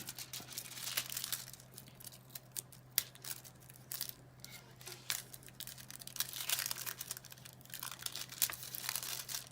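Soft, crinkly rustling comes from the backing being peeled slowly off a Sizzix Effectz adhesive sheet, a quiet, steady papery sound heard alone.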